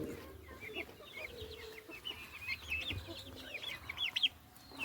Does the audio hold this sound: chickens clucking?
yes